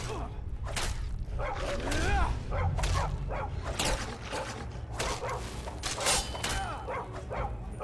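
Dogs in The Elder Scrolls game bark and yelp in quick repeated bursts, some with whimpering tones, loud and close over game sounds while someone talks intermittently.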